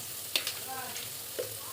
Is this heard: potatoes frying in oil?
yes